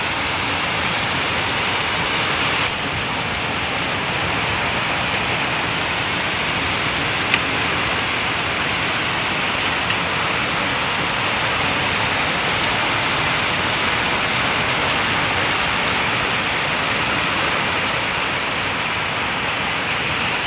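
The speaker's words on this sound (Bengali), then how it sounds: "কত জোরে বৃষ্টি নামছে" Heavy rain pours steadily onto surfaces outdoors in Tangail, a loud, dense, unbroken hiss of drops lasting throughout with no voices.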